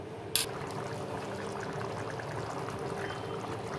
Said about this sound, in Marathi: आता गरम पाणी टाकल्यामुळे ह्याला चव पण चांगली येते आणि हे पटापट शिजत.